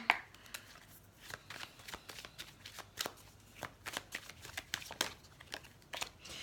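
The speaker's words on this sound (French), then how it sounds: "On va tirer quelques cartes de l'oracle des miroirs pour voir s'il y a d'autres messages." Oracle cards are shuffled close by for a reading, a soft continuous riffle of quick papery flicks and slaps at low volume, with no talk.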